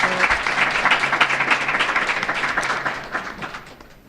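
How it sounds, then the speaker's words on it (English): An audience applauds at an academic health sciences alumni event, a dense burst of clapping that swells early and tapers off toward the end. "Can we give Dr. Andrews a round of applause for her?"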